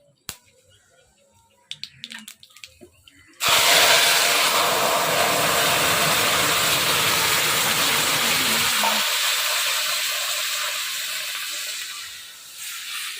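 Dried red chilies and black cumin hit hot oil for tempering in a village-style kitchen. A sudden loud hiss erupts after a few faint clicks and keeps roaring steadily before easing off slightly.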